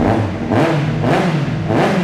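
A 2016 Kawasaki Z800 fitted with a genuine Yoshimura slip-on exhaust is blipped in quick bursts, each rev rising sharply and falling back, about three loud close pulses in a row.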